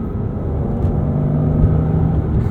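A 2005 Porsche Boxster S with a 3.2-liter mid-mounted engine and manual gearbox gives a steady, close, low induction growl, a continuous throaty rumble with a slight rise in tone partway through and no voices over it.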